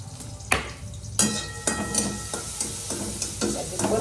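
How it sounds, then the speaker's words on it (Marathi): Peanuts sautéed in a pan with a spatula scraping and stirring them in several sharp bursts over a low, steady sizzle, close and fairly loud. "परतून घेणार आहे अगोदर, कारण शेंगदाणा भाजायचं नाही"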